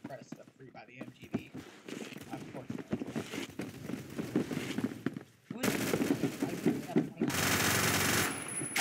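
Gunfire in the online shooter Phantom Forces, with scattered shots and quick bursts under a player's talk, building to sustained loud automatic fire near the end.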